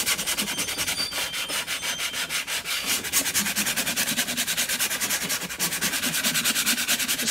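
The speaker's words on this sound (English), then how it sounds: "get some sandpaper and very lightly sand over the top" Fine sandpaper lightly rubbing over painted wood in steady, even back-and-forth strokes, close and continuous with no talk.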